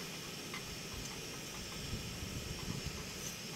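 A Brunton camping stove burns under an IB cookset, giving a steady, faint, even hiss that holds unchanged throughout with no talk over it.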